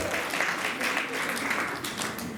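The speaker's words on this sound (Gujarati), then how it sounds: "તમને આમ તાળી પણ એટલા માટે પડાવું છું કે જો એક સરખી તાળી અહીંયા પડે" Audience at a Jalaram Bapa religious katha in the UK clapping together in a steady, dense wash of applause that fills the whole stretch at moderate loudness.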